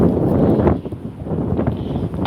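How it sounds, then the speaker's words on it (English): Loud wind buffets the microphone during an outdoor walk in low, rumbling gusts that swell and dip over a couple of seconds. "sorry if it's windy, guys."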